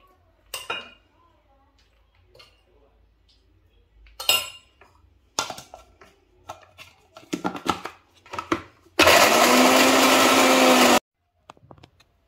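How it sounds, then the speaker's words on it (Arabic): Almonds and sesame seeds being prepared: scattered clinks and knocks of dishes and utensils, then a loud blender grinding steadily for about two seconds before stopping abruptly. "دابا من بعد ما كملت الطحن ديال كلشي"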